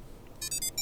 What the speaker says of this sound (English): and this third was the factory reset sound.